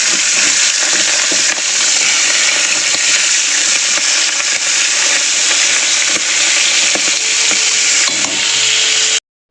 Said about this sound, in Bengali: আমার লাল লাল করে কিন্তু ভেজে নিয়েছি